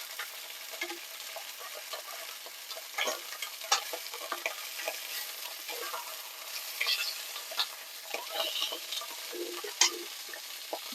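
Sausages fry in a hot pan with continuous soft sizzling, speckled with crackles and pops and occasional stirring or turning clicks, fairly close and moderately quiet, with no speech.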